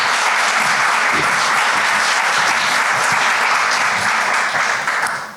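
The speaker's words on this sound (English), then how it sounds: "So please give him a big round of applause." Steady, full applause from a summit audience, dense clapping sustained throughout and tapering slightly at the end.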